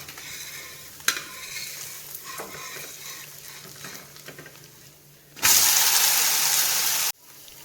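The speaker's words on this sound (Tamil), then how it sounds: "தோசையை பிரட்டி போட்டுக்கலாம்" A mudakathan keerai dosa is flipped and fried on a hot pan: soft scraping and stirring clatter, then a sudden loud, broad sizzle that roars for a couple of seconds before cutting off abruptly.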